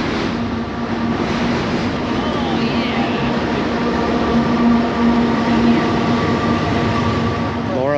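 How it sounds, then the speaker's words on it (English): A train rumbles past close by the Santee re-diversion canal, with a loud continuous roar and steady grinding tones that hold for the whole stretch. "Comes the train."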